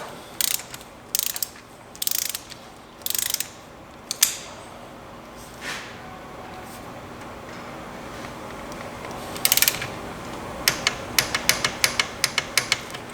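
Ratchet and socket tightening an oil pressure sensor on a Chevy Impala with a 5.3L engine: bursts of rapid clicking pawl strokes, then a pause and a quicker run of sharp clicks near the end, close and clear.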